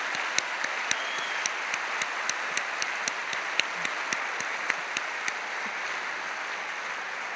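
An audience applauds at a speaking event, a dense wash of clapping with sharper individual claps standing out, steady and fairly loud throughout.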